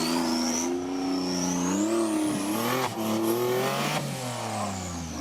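A 4x4 off-road car's engine revs hard and steadily while driving down a steep exit at the Hankook 4x4 Extreme Challenge, its whine climbing and falling in pitch through the drop, loud and close throughout.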